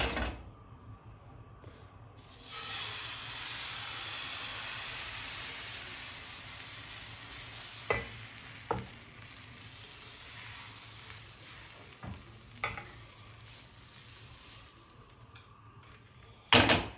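Crepe batter cooking in a pan greased with butter, a soft steady sizzle that swells after a couple of seconds and holds, with a few sharp knocks of utensils and cupboard clicks, no speech.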